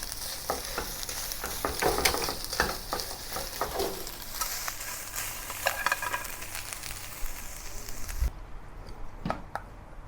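Beef and ground asparagus, Sichuan style, being stir-fried in a pan: a dense, close sizzle with repeated scraping and clattering strokes of stirring, the frying cutting off abruptly near the end, leaving a couple of faint knocks.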